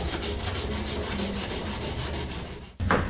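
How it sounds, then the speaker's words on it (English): A wooden slimline pen blank is sanded on a lathe with fine 600-grit paper along the grain, giving a steady close rubbing hiss with rhythmic pulses that cuts off briefly before resuming. "But this will get it sanded with the grain very nicely."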